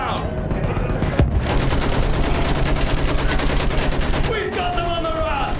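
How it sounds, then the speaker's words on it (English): Machine gun fire rattles in World War I combat in Battlefield 1, a dense continuous fusillade of rapid shots with scattered louder bursts, loud and sustained across the whole stretch amid battle noise. "Use that machine gun! Mow them down!"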